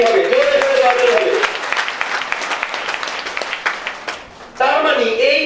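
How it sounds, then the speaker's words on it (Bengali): An audience bursts into a few seconds of dense, steady clapping at a success seminar in Chittagong, with a voice speaking before and after it. "ওনার জন্য একটা করতালি হবে, জোরে জোরে করতালি হবে"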